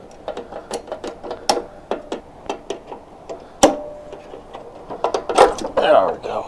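Screwdriver prying a spring off a Honda engine during teardown: a run of sharp metallic clicks and ticks, close and moderately loud, with a brighter snap midway and clattering rattles near the end.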